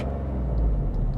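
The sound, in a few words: Kia Picanto GT 1.0 turbo engine bogging down at low revs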